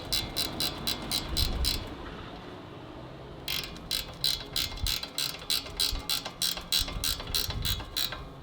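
Repeated ratcheting clicks of a spanner tightening new condenser bolts on a 2008 Land Rover Freelander 2, close and crisp, in two bursts of rapid regular clicks separated by a short pause, with no talking.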